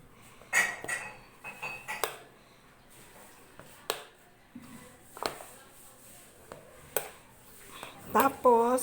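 Eggs whisked in a bowl for no-bake pizza bread, scattered clinks and taps of a utensil against the bowl rising and falling, with someone talking in between the strokes.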